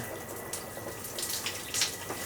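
A cabin shower aboard the MSC Seascape cruise ship runs steadily in a balcony stateroom bathroom, a quiet, continuous hiss of water spray with small splashy swells and no talking.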